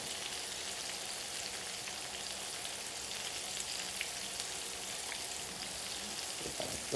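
Okra cakes frying in deep grease in a skillet make a constant soft, crackling hiss like light rain, steady and unbroken, with a faint clatter near the end and no talking.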